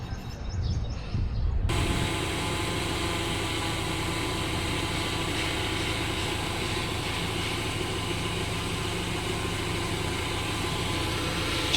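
Repaired drone motors, fixed after a crash from motor overload, spin up into a loud, steady whirring hum that holds evenly without a break after a brief rustle at the start.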